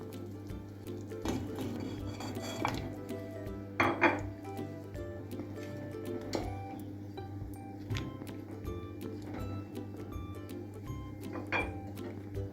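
Quartered medium potatoes go into a pot of simmering vegetable and chicken stew, heard as faint, scattered clinks and knocks against cookware over a low background hum.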